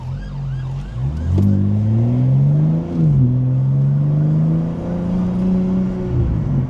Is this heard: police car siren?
yes